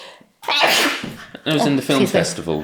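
A single loud sneeze bursts out after a short pause, followed immediately by people talking in a relaxed indoor conversation.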